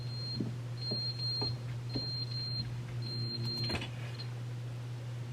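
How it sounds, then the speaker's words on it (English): A roof fire alarm in The Stanley Parable chirps faintly in a high register, repeating several times at irregular intervals above a steady low electrical hum and a few quiet knocks. "It's the fire alarm on the roof."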